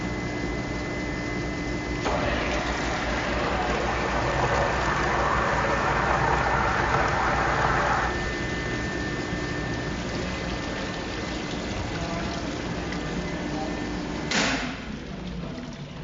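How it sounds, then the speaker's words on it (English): A harsh, steady hiss of a high-pressure water jet from a drill head cutting soil in a laboratory test runs continuously, brightening for several seconds, then a sharp burst near the end before it eases. "a laboratory test of a drill head that relies on high-pressure jets of water"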